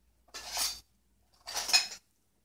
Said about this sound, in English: is just kind of toss it a little bit before I put the onions and the tomato